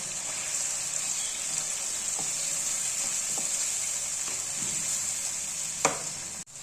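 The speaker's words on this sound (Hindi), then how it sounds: "ये सारा इसमें अब डाल देंगे और इसे भूनेंगे 1 मिनट के लिए।" Ginger, garlic and green chilies fry in hot oil with a steady, even sizzle throughout, with a few faint clinks of a spoon against the pan and a brief louder scrape near the end.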